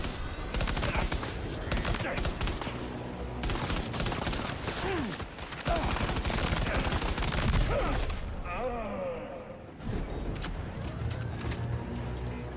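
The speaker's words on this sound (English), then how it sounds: "I heard another report of gunfire" Bursts of gunfire in the video game Death Stranding 2, rapid overlapping shots forming a sustained fusillade over dense game noise, with a brief pause near the end before firing resumes.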